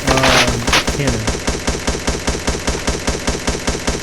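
A rapid-fire anti-player cannon on a Minecraft Movecraft craft fires a loud, steady mechanical stream of evenly spaced blasts, about five per second, after a brief burst of tones at the start.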